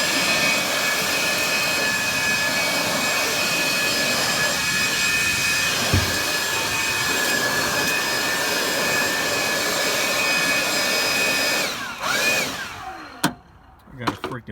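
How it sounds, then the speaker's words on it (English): A loud air blower roars steadily as it clears debris from the engine bay of a 2003 Chevrolet Silverado 2500HD truck, then sputters and cuts off in short bursts near the end. "I'm going to blow this engine out."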